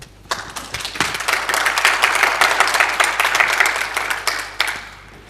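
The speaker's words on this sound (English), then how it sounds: "Please clap." A conference audience at a Python developer event claps for an arriving speaker, starting with a few sharp claps, then building into thick, irregular applause that rises, holds, and thins out with some last scattered claps.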